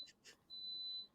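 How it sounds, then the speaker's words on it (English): A rice cooker making congee gives two short beeps followed by a longer steady electronic tone, faint and thin against quiet room noise. "I'm very sorry about that beeping sound."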